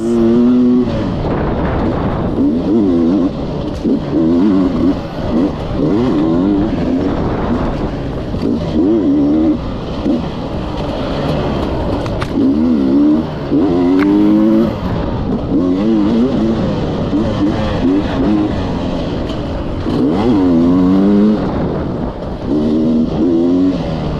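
Dirt bike engine at an enduro, running raspy at full throttle, with a loud rising and falling buzz that comes in repeated revving surges under wind noise, with no talking.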